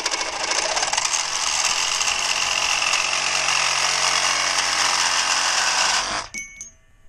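A Hercules reciprocating saw cuts through metal, roaring loud and steady for about six seconds before winding down and stopping.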